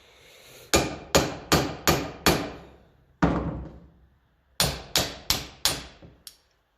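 A hammer strikes a drift made from a thick washer, bolt and nut to tap out a seal on a Massey Ferguson 35 tractor housing: close, sharp metallic blows in quick runs of five, a lone hit, then five more and a lighter tap.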